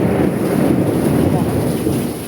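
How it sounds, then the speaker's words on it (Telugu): Thunder rolls during rain in the Godavari region while fish is being fried outdoors. A continuous, loud, low rumble mixes with the wash of rain and wind for the whole stretch. "క్లైమేట్ బాగా ఉరుముతుందండి"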